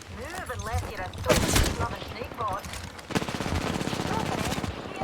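Rapid gunfire and sharp shots ring out during a first-person shooter match that features the Kraber sniper rifle, with bursts of repeated fire under excited talk from players.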